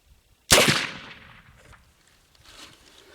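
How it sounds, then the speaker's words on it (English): A .36 caliber black powder long gun fires on homemade percussion caps, one sharp loud outdoor report followed by a decaying rumble and a faint echo about two seconds later. "my homemade percussion caps are going off okay"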